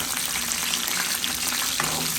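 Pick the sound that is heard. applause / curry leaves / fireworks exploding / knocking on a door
curry leaves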